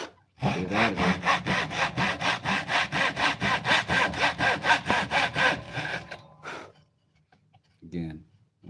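Rhythmic hand sawing through wood for a box, with quick even back-and-forth strokes close up, about twenty of them, then a pause and a short final rasp.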